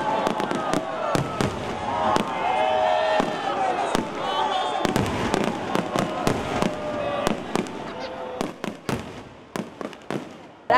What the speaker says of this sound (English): which ended with the annual fireworks spectacle.